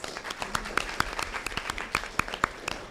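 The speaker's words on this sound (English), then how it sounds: "And let's give them all another round of applause." Audience at a school board meeting claps for teachers and support staff of the year, a modest, sparse round with individual sharp claps distinguishable, moderately close.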